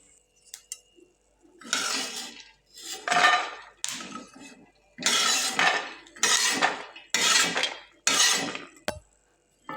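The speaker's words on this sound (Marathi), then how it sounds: "शेंगदाणे आता पूर्णपणे भाजलेले आहेत, ते आपण परातीत काढून घेऊ." Roasted peanuts tipped into a metal plate, several separate bursts of rattling, clinking nuts against metal, each about a second long with short pauses between, close and fairly loud, with no speech.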